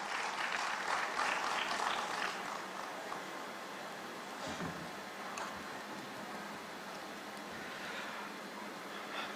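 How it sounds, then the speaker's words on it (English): Audience applause at a youth talk event, a broad hiss of many hands clapping. It is strongest at first, then thins into a quieter, steady wash that continues to the end. "Can we have a huge round of applause for Shri Ulas Kamat?"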